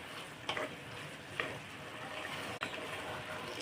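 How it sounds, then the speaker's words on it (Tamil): Drumsticks sauté with tomato and onion in a pan, giving a moderate steady sizzle broken by a few clinks and stirring scrapes. "ஒரு 5 நிமிஷம் இது இந்த தக்காளி வெங்காயத்தோடு சேர்த்து இந்த முருங்கைக்காய் நல்லா வதங்கட்டும்"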